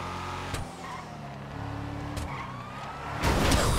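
A car wreck in GTA: engine hum and tire noise with sharp impact thuds early and midway, then a loud crunching collision burst near the end, no voices heard.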